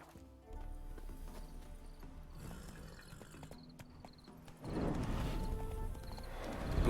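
Horse in The Witcher 3 video game: steady hoof clip-clop with snorts and a neigh, fairly quiet, over game ambience that swells louder toward the end.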